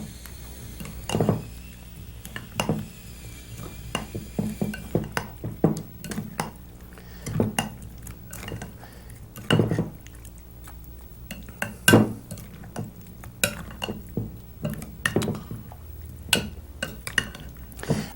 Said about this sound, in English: stir it all in.